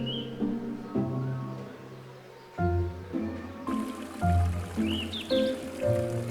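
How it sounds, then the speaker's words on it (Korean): Birds chirp and whistle in short bursts over a steady, trickling wash of a clear mountain stream, with soft background music throughout. "새소리와 맑은 물소리"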